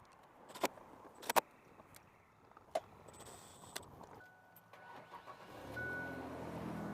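A 1999 Ford Ranger with a weak battery starts: a few sharp clicks and clunks, then a brief crank before the engine catches and settles into a steady low idle, heard fairly close.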